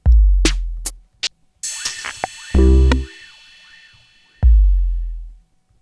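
Sparse electronic drum hits with deep booming kicks, sharp snaps and a bouncy pitched effect, separated by short gaps of silence.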